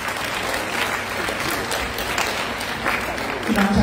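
An audience claps steadily for a speaker at a youth event in Khon Kaen, a broad continuous patter of applause, with a voice starting to speak at the very end.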